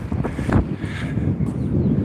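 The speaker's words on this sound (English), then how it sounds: "Holy cow, it's windy." Strong wind buffets the microphone in loud, uneven low gusts, continuous for a couple of seconds with no voices.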